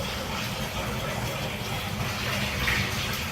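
Steady rushing of water pouring into a tank, continuous and fairly loud, with no pauses or voices.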